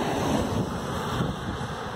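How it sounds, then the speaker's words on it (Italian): Steady wind roars across the microphone while cycling on a mountain road near Cap de Creus, a broad continuous rushing noise that stays loud throughout with no voices. "C'è vento e se c'è vento è contro"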